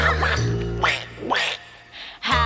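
A duck in a children's TV song quacks several times in quick succession over a sustained musical backing.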